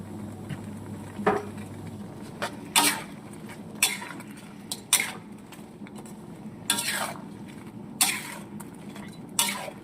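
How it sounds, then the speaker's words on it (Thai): Ingredients are stirred together in a pan with a spoon, sounding as intermittent scraping strokes and short bursts of clatter against a faint sizzle, spaced irregularly a second or two apart, close and fairly quiet. "คนทุกอย่าง ให้เข้ากันหน่อยหนึ่ง"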